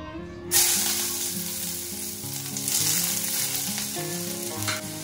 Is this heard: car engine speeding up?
no